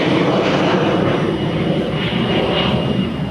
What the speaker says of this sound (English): Hold on, we have an airplane.